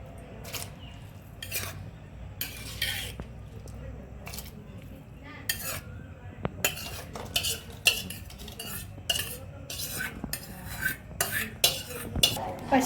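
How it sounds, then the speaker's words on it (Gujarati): A spoon scrapes and clanks against a pot while spiced rice is stirred for Gujarati rasiya bhaat, giving irregular bursts of metallic clinks and stirring over a low background. "પછી આ રીતે બધું મિક્સ કરી લઈશું"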